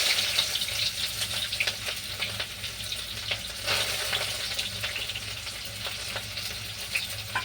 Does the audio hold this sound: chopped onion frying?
yes